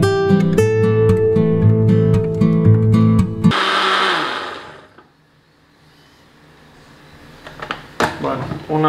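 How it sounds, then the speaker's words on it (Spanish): A kitchen blender mixing a blueberry and quince smoothie whirs loudly and briefly, winding down to a low hum, with people talking over the scene before and after. "Rápido que la batidora se me sale."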